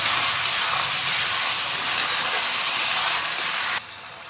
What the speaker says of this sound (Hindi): अब हम इसमें जो हमने टमाटर रोस्ट करा हुआ था ये हम इसके अंदर डाल देंगे और इसको भी थोड़ा सा चला देंगे।